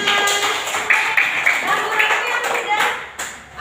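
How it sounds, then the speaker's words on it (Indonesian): A classroom of pupils claps during a group presentation in an Indonesian school, the sharp hand claps overlapping with children's voices talking over them. "Iya, tepuk tangan."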